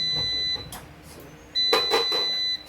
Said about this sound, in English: So it's finished because I hear it beeping.